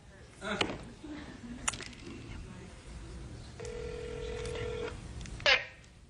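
Telephone keypad tones dialing into a voicemail system, a few separate keypresses and one sustained electronic tone over a faint room background, with short clicks or bumps between them.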